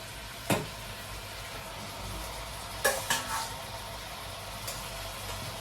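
Meat sizzles and fries in a hot pan, with a steady crackling hiss throughout and a few sharp clinks and scrapes of stirring utensils against the pan, no voices.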